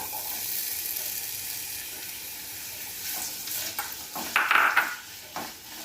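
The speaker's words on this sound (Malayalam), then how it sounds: "വെളിച്ചെണ്ണ ചൂടായി വന്നിട്ട് നമുക്ക് അരിഞ്ഞു വെച്ച സബോള ഇട്ട് കൊടുക്കാം" Sliced onions hit hot coconut oil in a pan, setting off a steady sizzle that grows louder toward the end, with scraping stirring and light clinks of a utensil against the pan.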